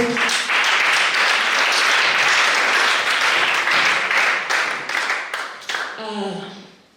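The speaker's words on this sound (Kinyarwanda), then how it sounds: "Reka dukomere Imana amashyi menshi" A church congregation applauding, dense sustained clapping from many hands filling the room, loud and close, then thinning and fading near the end as a voice begins speaking.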